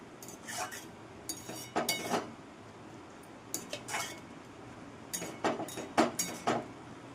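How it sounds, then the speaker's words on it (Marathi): Metal lid and spoon clinks against a cooking pot while making pumpkin halwa with milk, a few scattered clanks and clinks in small clusters, close and moderately loud in a quiet kitchen. "झाकण ठेवणार आहे मस्तपैकी"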